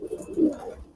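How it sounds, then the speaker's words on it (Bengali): A pigeon coos softly inside a loft holding hundreds of birds: a short, low, throaty warble that swells once and fades, with no voices. "এই যে কবুতর আসলে অনেক কবুতর, প্রায় 300 প্লাস কবুতর আছে"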